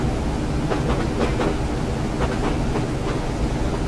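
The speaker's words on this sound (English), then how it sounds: "Wow, this train's slow" A Class 101 diesel multiple unit on the Preston to Ormskirk line in Train Sim World rumbles steadily along, with a low engine drone and repeated faint rail clicks over constant running noise.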